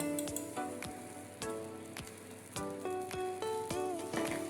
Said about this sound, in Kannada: ತಾರಾಯಿ ಸರಿ ಕೆಂಪು ಫ್ರೈ ಆವಾಡು.